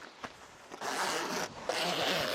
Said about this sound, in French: les fermetures éclair, elles sont étanches.